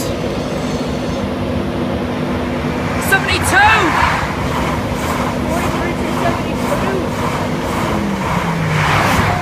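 A train rumbles past the platform at Newark Northgate station, a sustained loud rolling roar with brief squeals, while people talk over it.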